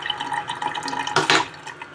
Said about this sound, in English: It's back flushing right now.